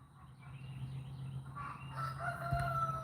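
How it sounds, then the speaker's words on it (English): A rooster crows outdoors on a Florida morning, a single drawn-out call rising near the end over steady low background hum and faint other birds. "right now I'm just outside listening to the roosters crow"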